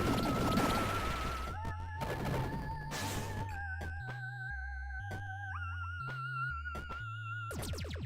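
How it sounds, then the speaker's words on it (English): Rapid energy pulses from the spinning-blade Turbine Pulse weapon in the video game Axiom Verge, fired in quick repeated bursts with bright synthetic tones and a steady electronic music bed throughout. "This is the Turbine Pulse. Spinning charged particle blades release discrete pulses of energy."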